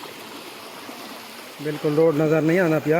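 Floodwater from hill torrents rushes over a road near Dera Ghazi Khan, a steady loud flowing wash that a voice soon talks over.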